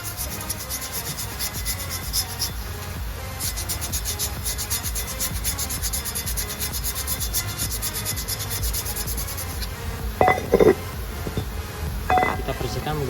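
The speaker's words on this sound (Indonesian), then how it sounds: "Kita amplas terlebih dahulu." Sandpaper rubbing over the rear brake drum of a Mitsubishi Xpander in quick, rhythmic back-and-forth strokes, close and steady for over ten seconds, with a couple of brief knocks near the end.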